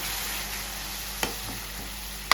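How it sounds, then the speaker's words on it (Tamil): Tomato puree for channa masala sautés with onion masala in a pan, giving a steady, even sizzle broken by a couple of sharp utensil taps. "இப்போ நம்ம இதில் அரைச்சி வச்சிருக்க தக்காளி பியூரி சேர்த்துப்போம்"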